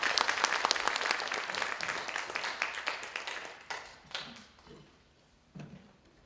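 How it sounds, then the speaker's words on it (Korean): Applause from the audience at an international academic symposium marking the 120th anniversary of the Donghak Peasant Revolution, dense and lively at first, then thinning to a few scattered claps before dying out. "자, 큰 박수로 다시 한번 부탁드리겠습니다"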